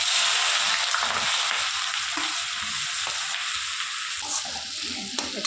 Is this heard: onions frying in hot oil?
yes